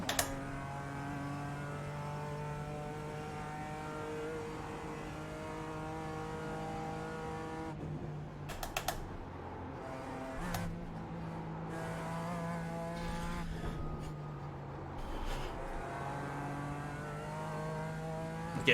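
A GT4 race car in the iRacing sim at the Nürburgring drones with a steady engine note, shifting gears and changing pitch through corners, with occasional bumps and brief tire noise, loud and continuous with no talk.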